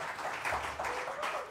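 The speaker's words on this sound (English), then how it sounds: "Let's give him a round of applause." A live jazz club audience applauds a horn player during band introductions, a steady wash of clapping lasting the full short stretch at moderate loudness.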